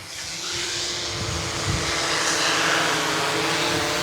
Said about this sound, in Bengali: ড্রোনটা অলরেডি ল্যান্ড করা শুরু করেছে